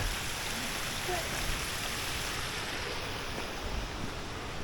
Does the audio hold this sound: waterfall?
yes